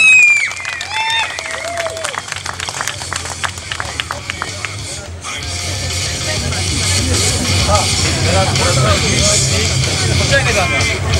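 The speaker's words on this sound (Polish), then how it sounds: "Słuchajcie, brawa dla niego!" A crowd at the Skillz Up Cup 2011 competition applauds a fourth-place competitor, dense steady clapping and cheering swelling from mid-clip onward after a brief stretch of voices.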